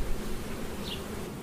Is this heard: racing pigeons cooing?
no